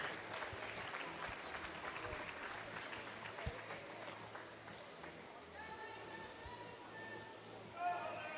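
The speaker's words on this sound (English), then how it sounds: "Big round of applause for our swimmers." Faint, distant applause for swimmers at a regional long course swimming championship rolls on steadily through a reverberant pool hall, with a voice talking over it.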